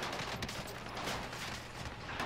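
Bursts of gunfire in a Call of Duty match, rapid shots blending into a dense, continuous volley with no talk.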